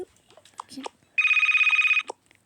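A mobile phone left behind rings with a bright, pulsing electronic tone lasting under a second, close and loud, after scattered brief voices and handling noises.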